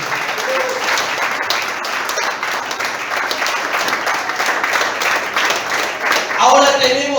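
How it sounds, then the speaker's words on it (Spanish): Many hands in a church congregation keep up continuous applause, a thick, steady clatter that swells near the end as a voice starts speaking over it. "Aplaude, aplaude."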